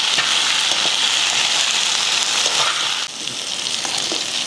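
Chili-sauced mutton fries in a pan while being stirred, a loud, dense, continuous sizzle with scraping strokes of the spoon, close up and without talk.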